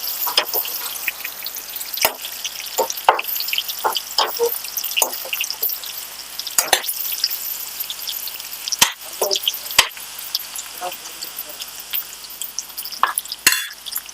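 Tempering spices crackle and spatter in hot oil for a chayote chutney, sharp irregular pops over a low continuous sizzle, close and fairly loud with no voices.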